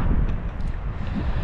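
Steady seaside wind at Kabardinka on the Black Sea coast, near the wrecked cargo ship Rio, roaring and buffeting, with broadband rumble filling the low end throughout, no talking.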